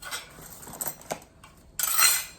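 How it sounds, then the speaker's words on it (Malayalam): Gifted dishes and a spoon clink and rattle as they are unboxed, with a few light metallic taps close by and a brighter clatter near the end. "കുറച്ച് പാത്രങ്ങളാണ് കേട്ടോ"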